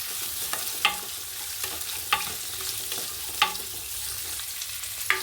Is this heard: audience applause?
no